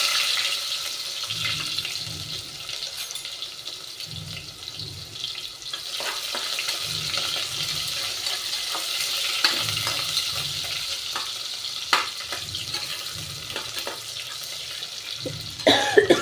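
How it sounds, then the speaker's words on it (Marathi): Cumin, garlic and onion frying in a pan for dhaba-style khichdi, a continuous hiss of sizzling oil with intermittent scraping stir strokes, close and steady, with no one speaking. "लाल होईपर्यंत आपल्याला कांदा हलवायचा"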